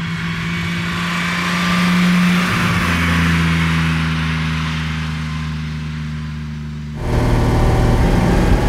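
A 1960 Mercedes 300 SL Roadster with four-speed manual gearbox pulls hard on a test drive, its engine note rising steadily, then a gear change drops the pitch before it climbs again, loud and close with no talk.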